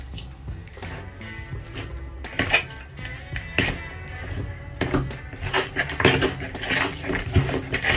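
Chopped onions get mixed into chicken in a cooking pot, with a spoon clinking and scraping against the metal in irregular taps over soft wet squishing.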